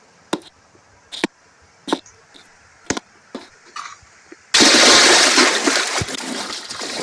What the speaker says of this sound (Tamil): தண்ணியில் கரெக்டாக குதிக்கணும் மக்களே